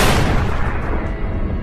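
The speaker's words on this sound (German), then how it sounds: "Diese bahnbrechende Simulation zeigt zum ersten Mal, wie die Explosion einer Typ 1a Supernova vonstatten gehen könnte." A supernova explosion sound effect for a documentary, a dense, roaring boom that rumbles continuously across the whole stretch without a break, heavy and loud at close range.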